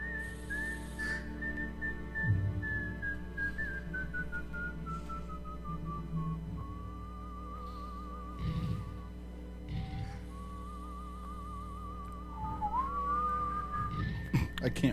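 A person whistles a slow, wavering tune, long sliding notes held over a low steady hum, with a few soft bumps and noises in between.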